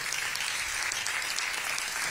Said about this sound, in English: That deserves a round of applause for everybody.